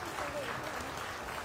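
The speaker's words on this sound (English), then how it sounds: "Let's give her a big round of applause." Applause from the audience at a county beef cattle show, steady clapping filling the short moment with a voice talking over it.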